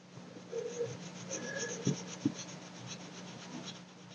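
The brush tip of an M&G Signme watercolor marker scratches and rubs across paper in quiet, close strokes, with a couple of sharper ticks partway through.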